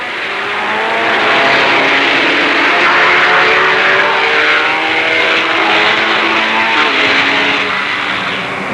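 Ferrari race cars, including a 250 GTO, roaring off the start line of an early-1960s motor race, a loud, dense blend of several engines building and sustained, with no talk.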